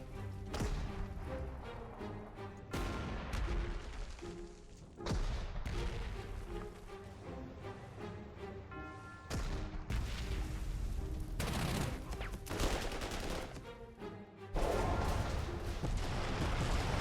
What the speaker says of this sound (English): Every one of our guns opens fire on it.